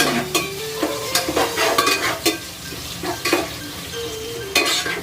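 Tomatoes frying in a pan for a Nellore-style fish curry, stirred with a spoon. Close, lively sizzling is broken by frequent clinking scrapes against the pan at an uneven rhythm.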